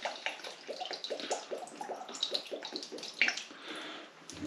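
Soy sauce poured into a jerky marinade, a soft steady trickling and splashing liquid stream, close and fairly quiet, with no talk over it.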